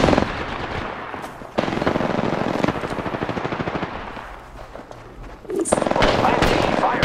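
Rapid automatic gunfire in the video game Apex Legends, loud bursts of shots running almost continuously while players talk excitedly over it.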